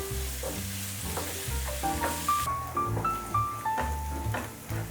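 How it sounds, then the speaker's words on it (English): Finely chopped onion frying in a pan for a Bombay duck dry curry, a soft sizzle under rhythmic scraping and clinking as a spatula stirs the pan, close and with no talking. "now we will fry this onion until it gets brown"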